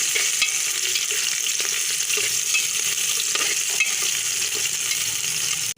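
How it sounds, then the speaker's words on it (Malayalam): Okra and potato pieces frying in hot oil give a loud, dense, continuous sizzle close up, with faint stirring clinks underneath and no voices. "നമ്മുടെ വെണ്ടയ്ക്ക ഒന്ന് പകുതി ഫ്രൈ ആയി വരുന്ന സമയത്ത് പൊട്ടറ്റോയും കൂടെ ചേർത്ത് കൊടുക്കാം."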